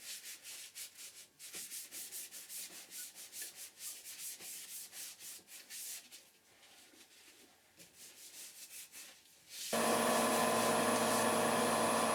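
Yorkshire grit abrasive rubbed against a wooden vase spinning on a lathe, a soft rhythmic scratchy rasp in repeated strokes, followed by a sudden loud steady machine whir near the end.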